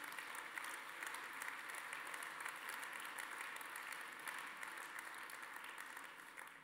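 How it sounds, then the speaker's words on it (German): Sustained audience applause at a 2015 award ceremony, steady and dense throughout, clapping from many hands filling the room at a moderate, even level with no talk over it. "das ist ein Applaus wert"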